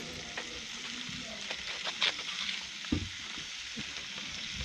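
Onions and tomatoes frying in a pan, a steady close sizzle with occasional stirring scrapes and clinks, heard alone without talk.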